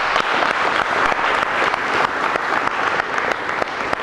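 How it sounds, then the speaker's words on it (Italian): An MMA training class applauds an instructor with full, sustained clapping from a group of people, crisp individual claps standing out within an even roar of hands, no voices. "facciamogli un applauso"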